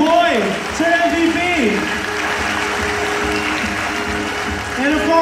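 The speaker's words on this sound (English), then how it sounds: "Guys, big round of applause for our birthday boy, Sir MVP." An audience applauds a birthday celebrant at an awards and scholarship event, a continuous wash of clapping with voices and tonal sounds running over it throughout.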